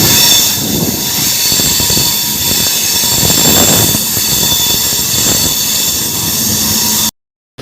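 Amrit Bharat Express rounding a curve into Howrah Junction: a loud, steady rumble of rolling coaches with wheel squeal and rail clatter running throughout, ending abruptly.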